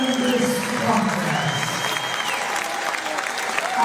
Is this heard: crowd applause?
yes